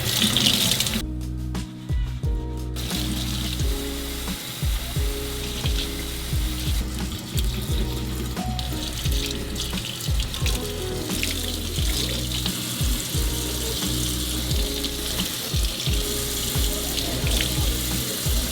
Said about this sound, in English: I find them like really, really useful for cleaning makeup brushes. And I use warm water.